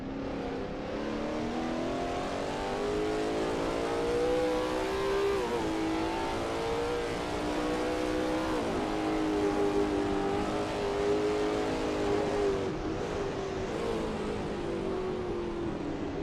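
Lola T70 MkII Spyder race car lapping Sebring in a racing game, a continuous loud engine drone rising and dipping as it revs through gears and corners, with no talk.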